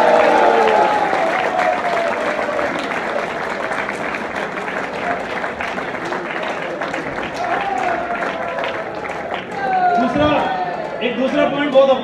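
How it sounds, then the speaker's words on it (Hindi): An audience at a sales promotion meeting breaks into sustained, dense applause, many hands clapping together close by, with a brief dip and then a renewed swell near the end. "एक ताली हो जाए"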